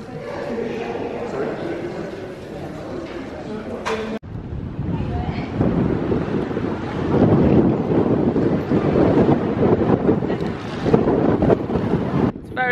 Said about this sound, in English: It's very windy in Margate.